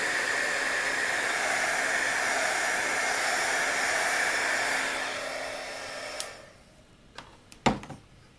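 A heat embossing tool melts pink embossing powder on light chocolate brown cardstock, blowing a steady loud hiss for about five seconds before fading off, followed by a few faint clicks and taps.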